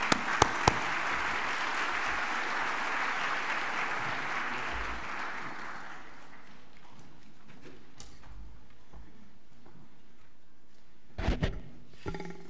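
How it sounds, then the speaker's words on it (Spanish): An audience at an economics lecture claps to welcome a speaker, a full round of applause that is strong at first, fades away after about six seconds into a quiet room, and is followed by a few brief knocks near the end. "Recibamos con un aplauso al subsecretario de Hacienda y Crédito Público"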